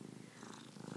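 A cat purring close by, a steady rumbling purr that continues alone throughout.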